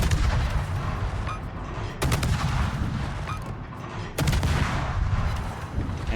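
Naval guns on the destroyer Daring fire armor-piercing shells in World of Warships: three heavy, loud salvos about two seconds apart, each a booming blast trailing into a dense rumble.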